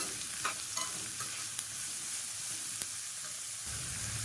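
Long-sliced onions with crushed garlic sauté in a pan for a dry fish fry, producing a soft, steady sizzle with a few stirring scrapes, close but fairly quiet and free of talk.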